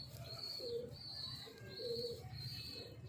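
Kalno breed pigeons cooing nearby, several soft repeated rolling coos in a steady rhythm with faint background noise.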